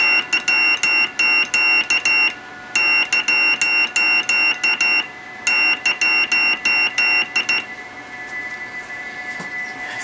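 A modified Pixie 2 QRP radio kit sounds its CW side tone as a clear, steady high beep keyed in rapid on-off bursts of dots and dashes. The bursts come in three groups separated by brief pauses, close and loud, and they fade into faint hiss at the end.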